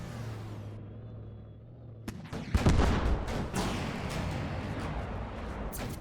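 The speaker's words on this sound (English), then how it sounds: "Broadside!" Battleship broadside gunfire in a naval game erupts after a quiet lead-in, with a sudden heavy blast, deep booming rumble and further sharp cracks that follow in close succession.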